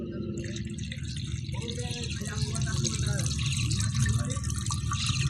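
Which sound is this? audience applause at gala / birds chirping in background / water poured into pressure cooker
water poured into pressure cooker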